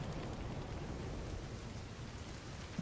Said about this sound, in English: It's raining, so they have a hard time spotting me now.